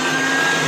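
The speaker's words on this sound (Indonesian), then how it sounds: "Kita blender ya." An electric blender runs steadily at full speed while blending ingredients for white kimchi, a loud continuous whirring drone with no pauses and no voices.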